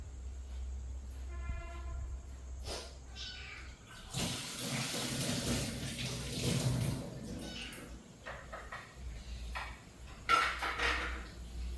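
Hot water runs and splashes while a glass jar is rinsed to sterilise it for a samosa tamarind sauce, a loud gushing stretch in the middle with clinks and knocks around it.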